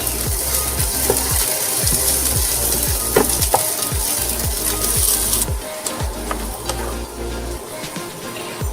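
Onions sautéing in olive oil in a pan to caramelize for classic tomato spaghetti sauce, a steady sizzle with repeated scraping and stirring strokes in an irregular rhythm.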